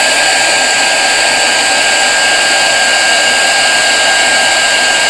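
A heat tool blows hot air to dry acrylic-based paint during a foiling craft project, a loud, constant, close-up whooshing roar that holds steady throughout with no talking.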